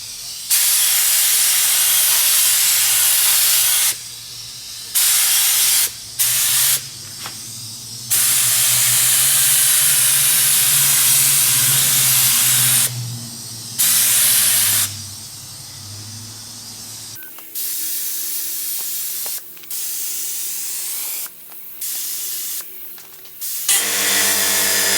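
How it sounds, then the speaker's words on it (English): Primer spraying onto a truck's cab corner during a wrecked Ram bodywork rebuild: long steady hissing bursts from a spray gun, loud and close, separated by short pauses, with the later passes shorter and choppier. "I got everything ready to spray"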